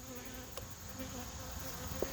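Honey bees around an open hive after the honey harvest, a faint continuous buzzing hum over quiet background, with a few brief light knocks and no talking.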